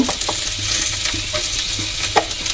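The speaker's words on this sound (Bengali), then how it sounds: "দুটো তেজপাতা দিয়ে দিলাম, নাড়াচাড়া করছি" Two bay leaves frying in a pan, stirred around with a utensil: a steady sizzle with sporadic scrapes and clinks of the spoon against the pan, fairly close, with no voices.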